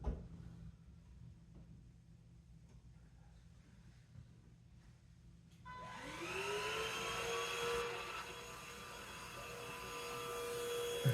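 A vacuum cleaner starts up partway through, its whine rising and settling into a loud steady roar that continues to the end, after a quieter stretch of low room noise.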